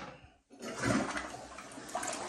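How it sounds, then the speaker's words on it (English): Toilet with a new flushing mechanism flushing, a short click then a loud rushing swirl of water that holds steady close by. "the new flushing mechanisms that we have back in these makes it so they do flush really well"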